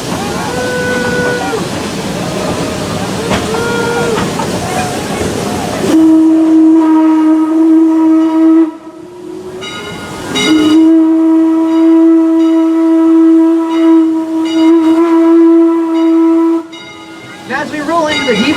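The Roaring Camp & Big Trees redwood forest steam train, hauled by locomotive Tuolumne, rumbles and chuffs, then a long, loud steam whistle blows twice with a brief break between, voices faint underneath at first.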